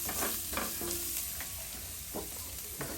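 Garlic stir-fried in a pan for tofu sisig, giving a steady close sizzle broken by a few scraping stirs of a utensil.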